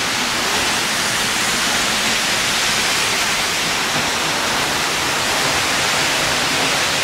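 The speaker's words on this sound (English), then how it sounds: "Okay, I am behind the waterfall." A powerful waterfall on Iceland's south shore roars from very close, heard from behind the falling curtain of water as a loud, steady, unbroken rush that fills the whole clip.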